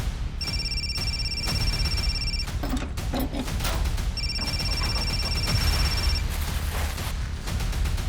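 A mobile phone rings inside a tempo in two bursts of high electronic tone, separated by a pause, over a steady background rumble.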